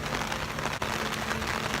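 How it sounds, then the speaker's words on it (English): Steady rain falls outdoors at a food and wine festival at Epcot, a dense, continuous patter close by with a brief dip partway through, and no talk over it. "The rain is picking up."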